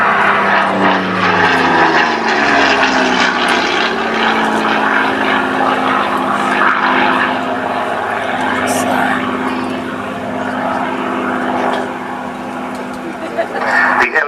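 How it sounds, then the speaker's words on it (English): Supermarine Spitfire Mark 9 (LF-9E, clipped wings) flying at an air show, its piston engine and propeller roaring loud and close then sliding lower in pitch as it passes, with a voice speaking over it. "It's a Mark 9 Spitfire with clipped wings"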